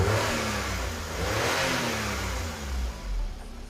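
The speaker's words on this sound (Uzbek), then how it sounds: "Xisrav aka, 1-2 marta gaz bering aka." A car engine, freshly overhauled, revs up a couple of times in steady, close swells of mid and low engine roar, with no talking.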